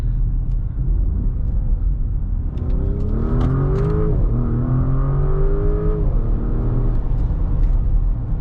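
A 2024 Porsche Cayenne S V8 revs hard and accelerates through rising gears, heard from inside the cabin, loud and steady, with the engine note climbing and dropping at each shift.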